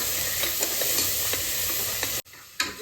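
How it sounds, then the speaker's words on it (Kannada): A steady, crackling sizzle of ginger and garlic tempering in hot oil, with faint stirring clinks; the sound drops out abruptly near the end, then resumes. "ಶುಂಠಿ ಬೆಳ್ಳುಳ್ಳಿ ಎಲ್ಲ ಒಗ್ಗರಣೆ ಮಾಡಿ"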